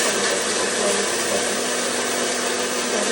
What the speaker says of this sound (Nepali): ब्लेन्ड गर्नलाई